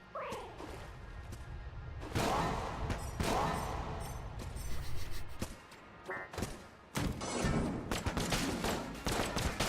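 Video game gunfire crackles in loud bursts and rapid volleys, broken by short quieter gaps and sharp single shots, with a busy clatter of in-game effects around them.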